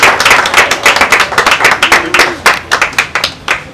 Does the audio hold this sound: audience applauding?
yes